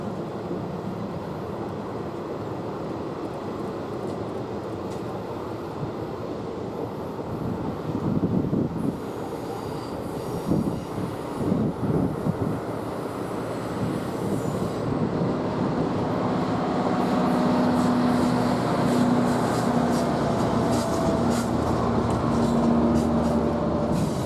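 A BNSF train rolls past on the Moffat and Joint Line with a steady, broad rumble of wheels and cars that builds and thickens over about twenty-four seconds, with a faint tonal whine joining later.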